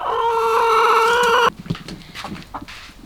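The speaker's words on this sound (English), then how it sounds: "I let my chickens out supervised." Backyard chickens let out into a yard: a loud, drawn-out crow or squawk for about a second and a half, then scattered nearby clucks and soft scratching movements.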